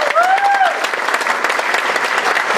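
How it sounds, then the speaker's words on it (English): An audience applauds at a high school spring choir and band concert, loud sustained clapping throughout, with a short whistle or cheer rising near the start. "Another round of applause for them."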